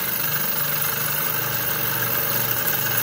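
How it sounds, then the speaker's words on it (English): A twin cylinder Stirling engine running at high speed, a steady close mechanical hum and rapid rhythmic chugging that holds constant without any talk. "As you can see, it is a quite high speed engine."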